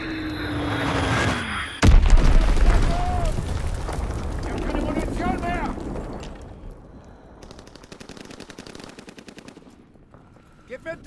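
A Fritz X guided bomb explodes in the Call of Duty WW2 war game with a sudden, loud, close blast. A long rumbling roll and bursts of machine-gun fire follow, with voices underneath.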